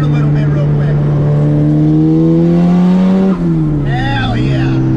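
A turbocharged, stanced Mazda Miata accelerates hard in third gear from inside, its engine note climbing steadily and loudly before a brief dip as the revs shift, with a voice heard over the engine.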